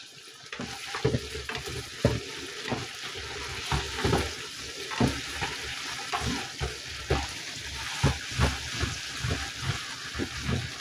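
Pork and chorizo brown in a hot pan, a continuous crackling sizzle broken by repeated scraping stirs, close up and steady, with no talking.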